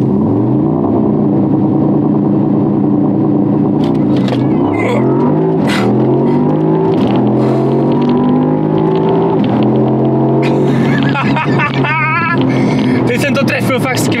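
A Mercedes-AMG SL 55 convertible holding at high revs before a launch-control start, the engine droning loud and steady with rising and falling pitch sweeps, ending in crackling bursts as it lets go.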